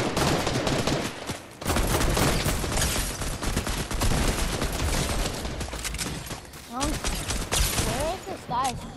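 Dense, rapid gunfire from Fortnite crackles almost without pause, loud and close, with a voice speaking over parts of the shooting.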